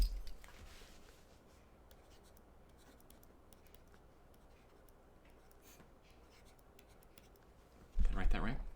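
A marker or chalk scratches across a board in a physics classroom, faint and steady strokes close by, ending in a louder bump.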